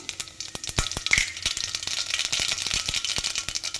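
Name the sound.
mustard seeds and cumin sizzling in hot oil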